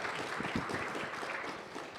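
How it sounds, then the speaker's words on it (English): An audience at a CPAC conference in Atlanta gives a brief round of applause, a dense wash of clapping heard from a moderate distance and fading slightly toward the end. "Let's give them a quick round of applause."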